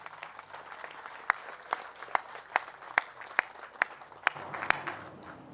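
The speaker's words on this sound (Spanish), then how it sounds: "Pido un fuerte aplauso para el compañero Martí Batres Guadarrama." A crowd at a Mexico City government gathering in Tlaxcoaque bursts into applause. A sustained wash of many hands is punctuated by sharp, loud individual claps standing out close by.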